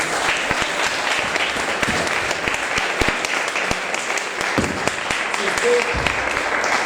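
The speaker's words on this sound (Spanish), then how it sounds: "Denle un aplauso fuerte a Jesús" A church congregation claps loudly and steadily, a dense wash of many hands applauding together that fills the room without letting up.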